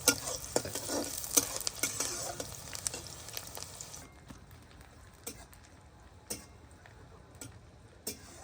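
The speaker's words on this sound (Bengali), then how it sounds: "অল্প পেঁয়াজ প্রথমে ভেজে নিচ্ছে" A small batch of onions fries for beresta with a sizzle in the opening half, then softer ticks and occasional clinks of stirring, quiet and close, with no voices.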